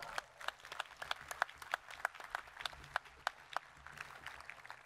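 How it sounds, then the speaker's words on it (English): Faint, scattered clapping from a sparse audience at an outdoor 2020 summer university commencement, applauding a bell tower brass ensemble; quiet, distant and uneven hand claps with no talking. "Another round of applause for the Brass Ensemble."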